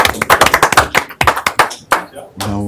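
Several people applaud at a city council meeting, a close burst of quick claps that thins out into scattered final claps, with a voice speaking at the end.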